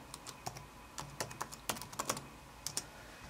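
Typing on a computer keyboard, entering an email and password: a run of crisp, close key clicks in uneven bursts with short pauses, alone with no talk.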